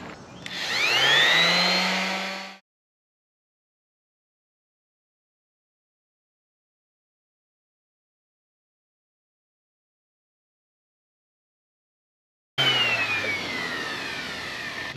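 A power sander working on the gunwale of a Laser sailboat, whining loud and close for a couple of seconds, cutting out into long silence, then starting up again near the end with the same steady high whir.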